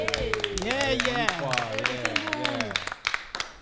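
Studio audience on a motoring TV show clapping in quick, sharp bursts beneath overlapping voices, with the claps thinning to a few scattered hits near the end.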